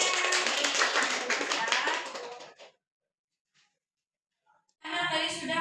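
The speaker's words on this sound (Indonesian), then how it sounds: "tepuk tangan untuk Amel." A short burst of clapping from a small group of students in a classroom, then silence, before the clapping starts again.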